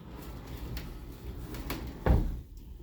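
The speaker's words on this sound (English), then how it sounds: "Nice operation on the doors." Doors being opened and closed during a building walkthrough after paint touch-ups and a tightened door guide, with soft scuffs and one firmer thud of a door shutting near the end, close and fairly clear.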